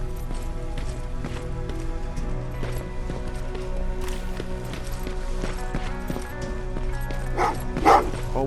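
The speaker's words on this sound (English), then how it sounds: "Oh, what's with the dogs?" Dogs barking in the video game Terminator: Resistance, repeated woofs under a steady game soundscape, with a louder bark burst near the end.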